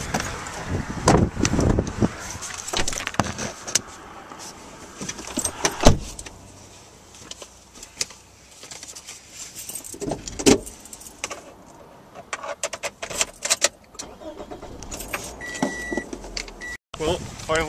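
Someone gets into a car: keys jangle, a door thuds and electric power windows whir, all close by, with a person talking intermittently over the handling noises.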